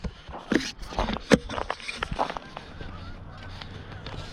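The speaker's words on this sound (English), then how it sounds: "There's a ton of geese in there, so it's obviously open water" A flock of geese honks repeatedly from open water on a lake beside ice near rocky shoreline in Fairmont, Minnesota, on a cold December day, with loud calls early that thin out into scattered honks over outdoor ambience.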